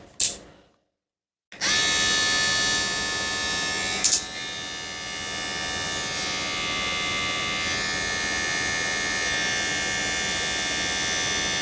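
A Kemei KM 2357 hair clipper with a ceramic cutter blade switches on after a short silence and runs with a steady, slow buzzing hum, with a brief rattle early on, close and unbroken to the end.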